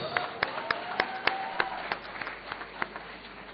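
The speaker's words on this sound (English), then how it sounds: "let's give a round of applause." Scattered clapping comes from a conference audience, thin and fairly faint, with irregular individual claps over a low room background and some murmuring voices.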